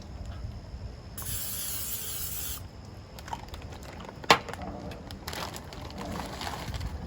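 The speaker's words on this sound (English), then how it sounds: "let's spray the air fryer basket with a cooking spray." A short, close hiss of cooking spray onto an air fryer basket lasting about a second and a half, followed by a sharp clack and some quiet rustling.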